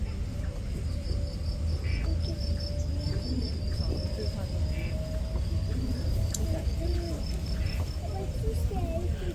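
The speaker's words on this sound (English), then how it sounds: "All set against a chorus of crickets." A dense chorus of crickets and other insects at a night safari in Singapore, a steady shrill trilling throughout with occasional faint chirps layered over a low rumbling background.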